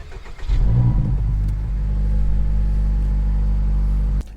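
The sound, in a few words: 2024 Acura Integra Type S engine starting up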